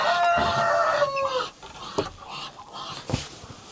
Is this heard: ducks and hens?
yes